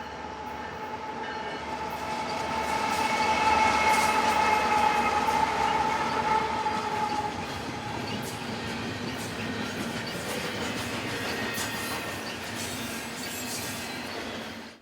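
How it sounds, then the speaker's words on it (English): Westbound freight container train on the Alhambra subdivision in Pomona rolls past with a steady rumble, rhythmic wheel clatter and faint squeal, loudest early on and easing slightly as the cars continue by. "This train originated in Santa Teresa, New Mexico, and will terminate in Long Beach."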